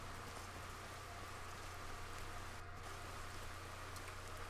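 Steady rain from The Legend of Zelda hisses as a continuous, even wash of falling drops, close and alone with no voices, briefly dipping for a moment near the middle.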